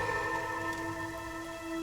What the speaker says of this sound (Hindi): बारिश तो बहुत तेज हो गई।